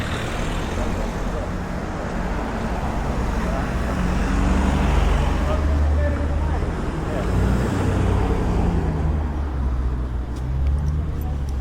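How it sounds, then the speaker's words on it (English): Steady traffic rumble on a narrow one-way High Street with traffic-light control in Aylesford near Maidstone, a continuous low roar of passing vehicles with some wind buffeting the microphone, no clear talk. "High Street is very narrow, as you can see, and only has one-way traffic"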